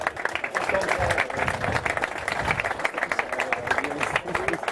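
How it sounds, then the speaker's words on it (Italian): A crowd applauds steadily with dense, continuous clapping at an amateur football awards gala, while a voice is heard over it. "Gli farei un applauso."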